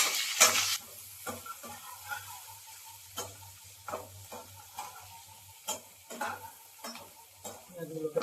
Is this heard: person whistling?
no